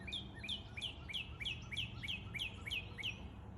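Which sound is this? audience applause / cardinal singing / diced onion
cardinal singing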